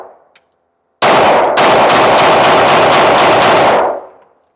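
Rapid gunfire from a Ruger pistol loaded with Remington 115 grain ammunition, a close, loud string of shots fired in quick succession for about three seconds, then silence.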